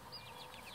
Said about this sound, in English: a chicken called Green Queen that is from that hatchery